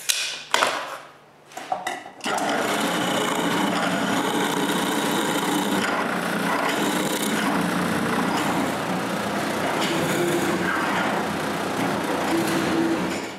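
A power drill bores pivot holes in wooden cart frames, starting with a few short bursts and then running in one long, steady whine close by.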